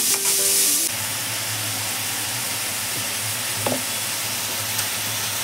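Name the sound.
onions frying for gravy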